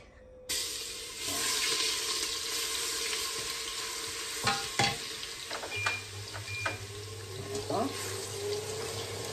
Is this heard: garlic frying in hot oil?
yes